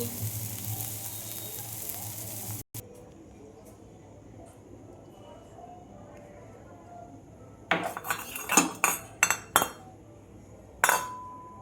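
A cooking pot is lifted off a gas stove with a cluster of close metallic clinks and clatters, following a stretch of steady low stovetop hiss and murmur.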